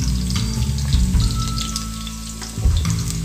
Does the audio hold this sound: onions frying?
yes